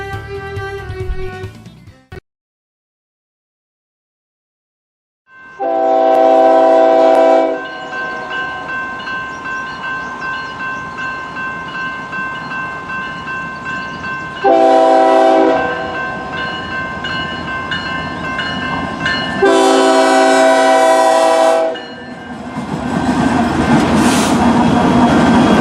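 Union Pacific Big Boy 4014 steam excursion train rolling past, loud and close, with several long sustained horn blasts between stretches of steady rumbling rail noise, after a brief quiet gap near the start.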